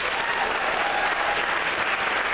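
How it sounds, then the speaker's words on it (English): Audience applauding award winners at a company kickoff event, a steady dense wash of clapping from a large crowd that holds evenly loud throughout with no break. "Let's give them a round of applause."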